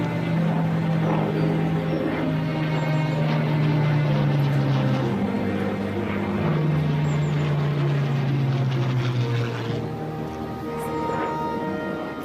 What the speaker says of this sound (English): As a final tribute, the aircraft that Archie knew and loved so well is here to send him off. A Mark I Hurricane.